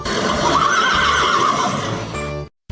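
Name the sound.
horse neighing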